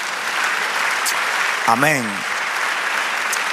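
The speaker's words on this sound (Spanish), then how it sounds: "Denle aplauso al Señor" Church congregation applauding in praise, a steady broad wash of clapping filling the room, with a brief sung or spoken voice rising over it near the middle.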